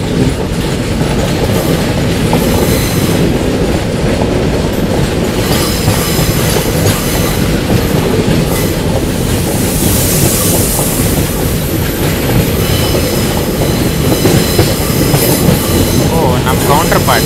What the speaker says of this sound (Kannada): intercity train